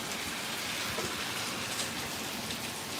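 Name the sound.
heavy rain downpour clearing up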